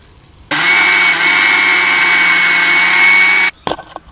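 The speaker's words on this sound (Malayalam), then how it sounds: "അപ്പോൾ നമ്മൾ മിക്സിയുടെ പൊടിക്കുന്ന ജാറിലിട്ടാണ് പൊടിക്കുന്നത്" An electric mixer grinder with a dry grinding jar powders sugar, giving a loud, steady motor whine and rattle for about three seconds before it cuts off, followed by a few brief clatters.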